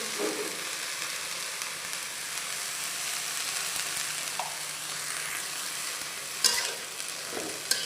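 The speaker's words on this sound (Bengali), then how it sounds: "নেড়ে চেড়ে ভালোভাবে মিক্স করে কিছুক্ষণের জন্য ঢেকে দিব" Botboti beans fry with salt and turmeric under a steady, close sizzle, with occasional spatula scrapes and a couple of louder clatters of stirring near the end.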